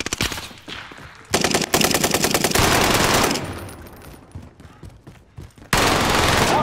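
Automatic gunfire in Warzone on Rebirth Island rattles in loud rapid bursts, one long sustained stream followed by a quieter lull and another sharp burst at the end.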